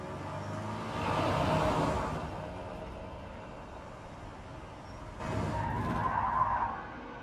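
Car skidding in Life is Strange 2: two separate swells of tire roar and screech, the first longer and fuller, the second shorter, at moderate level with no voices.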